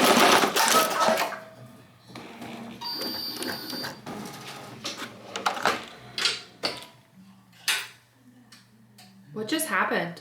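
A Ricoma MT1501 embroidery machine stitches a hat, its rapid mechanical chatter running in uneven bursts with brief pauses, close and fairly loud, while a voice occasionally speaks over it.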